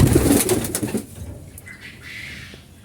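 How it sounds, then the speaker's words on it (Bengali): Pigeons coo nearby at a household coop, with a burst of soft calls and wing flutters at first, then fainter cooing trailing off alone. "অনেকগুলো কবুতর আছে"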